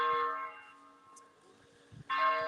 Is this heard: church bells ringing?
yes